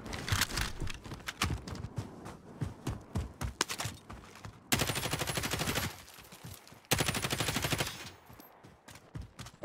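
Gunfire in Call of Duty Warzone, rapid bursts of automatic weapon fire, first scattered sharp shots then two sustained loud machine-gun volleys, close and dominant with no talk.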